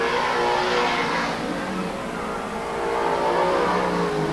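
Loud stock car engines racing at Watsonville Speedway, a roaring pack revving close by, dipping briefly as cars pull away and then swelling again into a sustained high-pitched drone.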